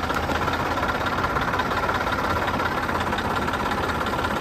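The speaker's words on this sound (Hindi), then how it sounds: "फाइनली दोस्तों जो हमारे यहाँ पे ट्रैक्टर है उसको स्टार्ट करते हैं।" A tractor engine idling, a close, steady, low rumbling chug with constant vibration and no voices over it.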